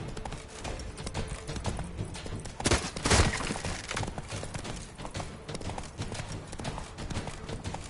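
Hooves pound in a fast, continuous galloping rhythm in The Witcher 3: Wild Hunt, with a brief louder burst of clatter midway.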